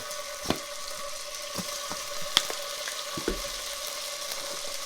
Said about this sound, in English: I'm going to go ahead and add my garlic